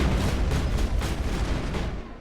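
Sustained gunfire in the Mass Effect video game, a loud continuous barrage of shots and booming impacts filling the whole stretch without any talk.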